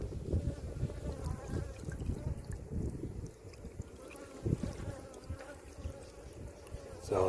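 Bees buzz in and around a sample container set on a beehive during a varroa mite check, a low, continuous hum with faint handling noises, close by and without speech.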